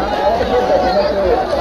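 A dense crowd of devotees gathered at a Shiv temple on Mahashivratri, waiting to offer water: a steady, close hubbub of overlapping voices and chatter that never lets up.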